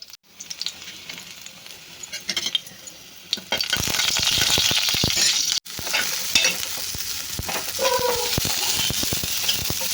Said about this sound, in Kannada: ಎಣ್ಣೆಗೆ ಸಾಸಿವೆ ಕರಿಬೇವು ಈರುಳ್ಳಿ ಮೆಣಸಿನ್ಕಾಯಿ ಬೆಳ್ಳುಳ್ಳಿ ಹಾಕಿದ್ವಿ ಸಾಸಿವೆ ಒಗ್ಗರಣೆ ಫ್ರೈ ಮಾಡ್ಕೊಳ್ಳೋಣ